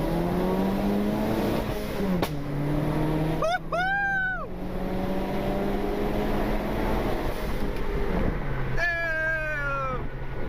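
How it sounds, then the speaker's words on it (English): A car engine revs high and drops back between gear changes, a loud, whining exhaust note broken by a couple of sharp backfire pops. "You guys heard that backfire?"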